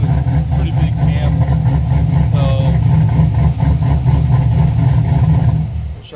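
A Chevrolet C6 Corvette Grand Sport with a big aftermarket cam idles loudly nearby, holding a deep, steady, lumpy rumble that cuts out abruptly at the end.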